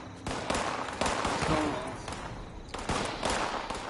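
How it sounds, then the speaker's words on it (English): Rapid bursts of gunfire from raiders in Fallout 76, several volleys of shots close by with short gaps between them, while a voice speaks briefly over the shooting. "Oh shit, gunshots."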